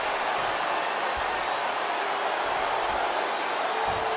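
Arena crowd in the WWE 2K20 wrestling game cheering during a Sasha Banks match, a constant dense roar of voices and applause with a few low thuds, filling the whole stretch.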